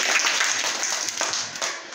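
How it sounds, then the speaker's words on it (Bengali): Children in a third-grade Bangla classroom clap for a classmate, a dense, steady patter of many small hands that fills the room and eases off slightly toward the end. "ওর জন্য একটা জোরে হাতে তালি"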